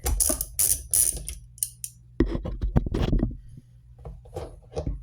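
A 13 mm socket wrench ratchets loose a nut on a gas chainsaw, giving bursts of close metallic clicking and scraping followed by sharper knocks and handling clatter, with brief pauses between.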